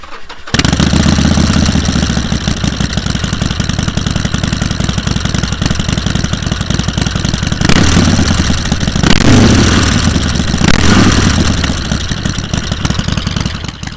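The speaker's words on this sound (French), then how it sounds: "Vous voulez entendre le bruit de la bécane." A Harley-Davidson Forty-Eight motorcycle engine starts and settles into a loud, steady idle with a deep, lumpy rhythm, swelling briefly with a couple of throttle blips.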